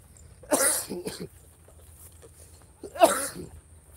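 Two harsh coughs, close and loud, separated by a short pause, the first followed by a smaller hack.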